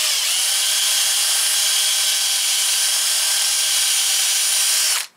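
Power drill boring holes in wood, one continuous loud high whine held for about five seconds, then cutting off abruptly at the end, with no talk.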